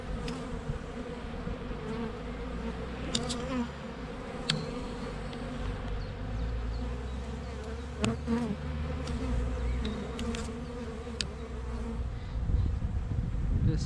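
Honey bees drone steadily in an open hive during an early-spring inspection, a dense close buzz holding for the whole stretch with occasional clicks and handling knocks from the frames.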